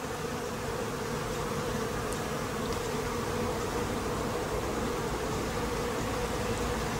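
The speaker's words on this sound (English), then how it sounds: "you can still see the bees happily doing their bee dance" Honeybees in an observation beehive hum in a steady, dense drone that stays close and unbroken throughout, with no talking over it.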